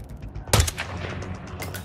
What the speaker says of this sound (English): That was quite the explosion